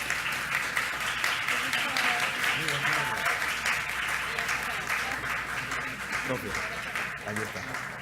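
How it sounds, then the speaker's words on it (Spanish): Audience applause for a professor introduced at an international academic colloquium panel, a steady, dense round of clapping that fills the room and stays loud throughout, with a voice talking over it. "por favor, un fuerte aplauso para el profesor Alan Patroni"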